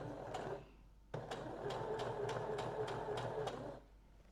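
A sewing machine stitches a dart 7 mm from a cut fabric edge, running in a steady, even run of rapid ticking stitches for about three seconds before stopping.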